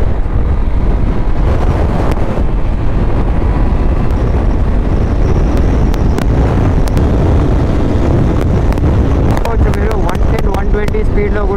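A Honda NX200 adventure motorcycle accelerates on the road, its engine partly buried under heavy, loud wind rush at the microphone, with a few sharp bursts near the end.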